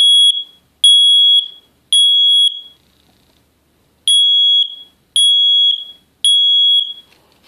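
A FG200 smoke detector under test gives a loud, piercing alarm in two bursts of three long beeps, separated by a short silence, heard alone and up close.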